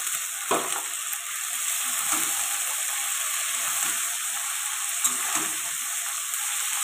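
Pre-boiled cabbage and green peas fry in a pan for a vegetarian curry, giving a soft, even sizzle with a few brief stirring scrapes and clicks.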